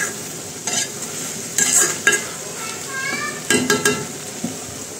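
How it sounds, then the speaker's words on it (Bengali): Meat dry-fries in its own juices in a pan with a steady sizzle, broken by several scraping stirs and clinks of a spatula against the metal, close and fairly loud. "কষানো হইতেছে।"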